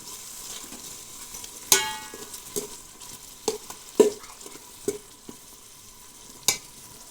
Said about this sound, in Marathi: आता हे सर्व तेल सुटोपर्यंत मी भाजून घेणार आहे